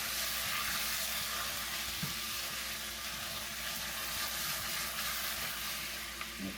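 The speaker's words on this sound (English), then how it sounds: "we're just going to mix this up and let it melt down" Three packs of cream cheese sizzle and soften in a pan on a stove at medium heat while being stirred for spinach dip, a steady close hiss with occasional faint scrapes and no talk.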